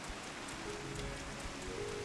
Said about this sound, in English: I like this zone's rain effects.